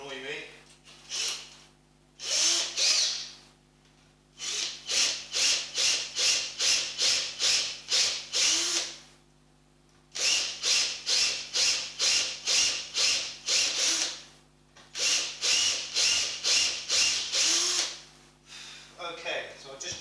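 A power drill bores holes during a guitar build, whirring in repeated bursts of a few seconds each, separated by short pauses, loud and close over a steady low hum.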